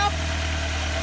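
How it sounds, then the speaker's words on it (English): A car engine idling steadily with a low, even rumble, close by and fairly loud for a brief moment. "Jen's gonna start up the car and see what it does."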